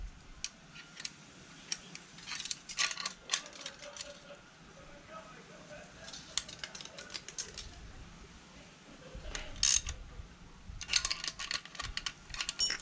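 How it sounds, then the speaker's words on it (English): Quiet, close metallic ticking and ratcheting as a locking nut is threaded and snugged down on a car coilover, in irregular bursts with brief pauses and a few sharper clicks. "Now we can put the locking nut in. And we can tighten this down."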